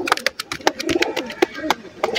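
A cobra pigeon coos in short soft repeated calls, close by, with a few sharp clicks and scuffs around it.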